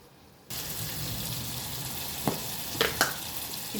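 Ingredients for a tomato chutney begin frying in a pan, a sudden close sizzling hiss that then holds steady, with a few soft stirring clicks.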